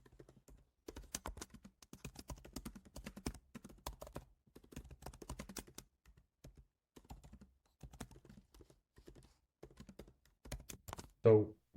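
Keys on a computer keyboard clatter in quick irregular bursts of typing as a message is written, close and clear, with short gaps between runs.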